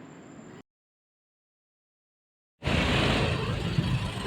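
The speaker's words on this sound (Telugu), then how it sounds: "full traffic" Dense road traffic on a cold night near Ramoji Film City, a broad steady roar of car engines and tyres after a short silent gap, with no voices.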